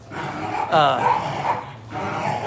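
Dogs barking indoors: a few loud yipping and whining barks close by, mixed with talking voices.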